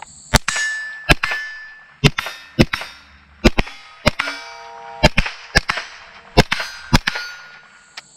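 Ruger 10/22 rifle firing a magazine of rounds: sharp, fairly close cracks in an uneven series of about twelve to fifteen shots, some with faint metallic ringing from a struck target between them, and no talking.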